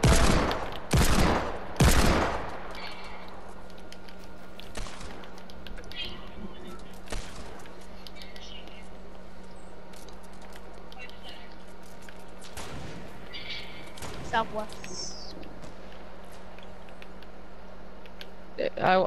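Gunfire in the battle royale game Fortnite: a few loud, sharp shots bunched at the start, then scattered fainter distant shots and bursts over a steady background hum.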